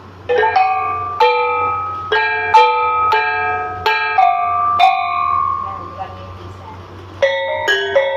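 Metal gongs struck one after another, in a series of ringing, bell-like tones that sustain and decay between hits, with a short pause before a final quick cluster of strikes.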